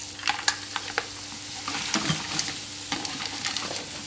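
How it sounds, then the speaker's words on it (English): Scallops, prawns and vongole clams frying in a pan for Neapolitan-style seafood make a soft, quiet sizzle broken by scattered clicks and scrapes of stirring, with no one talking. "I'm going to fry off the scallops and the prawns and the vongole at the start"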